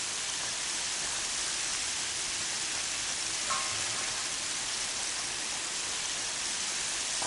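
Steady rain in the video game Horizon Zero Dawn hisses evenly throughout, a dense wash of falling water with no breaks and no other sounds standing out.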